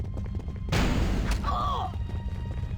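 A concussion grenade from KotOR II goes off in a single sharp, loud boom that fades out over about a second, with a brief electronic tone trailing after it.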